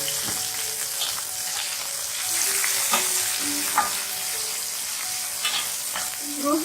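Green chilies roasting in hot oil with a pinch of asafoetida, a steady close sizzle with occasional scraping stirs and brief spatter pops, no talk.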